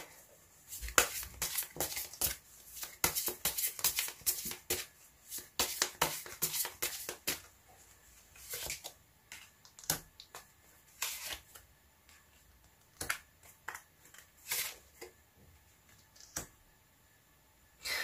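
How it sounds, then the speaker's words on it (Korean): Tarot cards are shuffled and drawn, making quick bursts of crisp riffling clicks and soft slaps at close range. The flurries are irregular and separated by short pauses, with little else around them. "이 귀인분을 만나기 위해서 여러분이 해야 할 노력은 뭐가 있을지도 카드 뽑아보도록 할게요"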